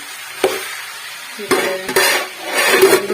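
A spice tempering is stirred in a pan for a chickpea dish, sharp metal clinks of the spoon against the pan landing at irregular intervals over a soft sizzle, close and clear with no talking.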